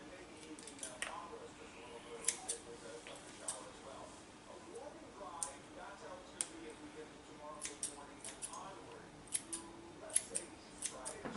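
Scissors trim the bottom of a bleached wig with quiet, sharp snips at an irregular pace, close to the microphone and faint, with a person talking softly in between the cuts.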